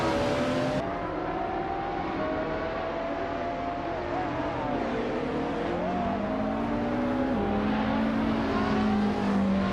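Video game race cars, among them a 1993 Ford Mondeo and a 1998 Mitsubishi FTO GTC, roar steadily with engine pitch rising and falling through gear shifts, several cars close together, loud and continuous with no talk.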